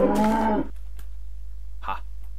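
A single loud moo from a Minecraft cow opens the sequence, followed by near-silence and a brief faint sound later.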